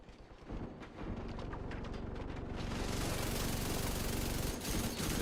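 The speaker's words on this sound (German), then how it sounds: "Oh, noch eine Explosion." Explosion and heavy gunfire in the video game Division 2 during an arena light machine gun run, a dense rattling fusillade building into a loud sustained roaring blast.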